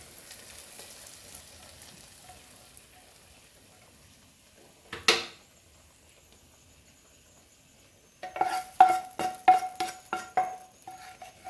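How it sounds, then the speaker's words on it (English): Tempering being poured into dal gosht, a lamb and lentil curry: after quiet background, one sharp hiss, then a burst of loud crackling sizzle with rapid spitting pops close by. "Now let's add our tadka"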